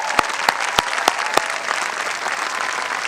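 Steady applause from a graduation ceremony audience fills the space, with several sharp, louder claps standing out early on before the clapping settles into an even, continuous wash.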